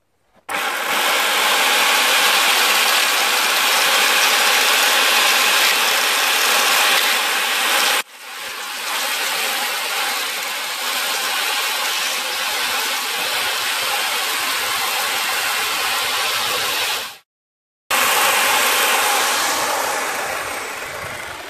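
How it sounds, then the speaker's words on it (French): A chainsaw cuts into a timber frame member for a wattle-and-daub cabin, running loud and close in two long bursts with a short break between them, then a brief third burst after a gap. "un coup de tronçonneuse"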